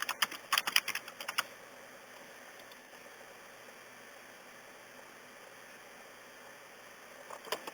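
Quiet bursts of keystrokes on a computer keyboard while a business name is typed, a quick clatter at the start, then near silence, then a few more taps at the end.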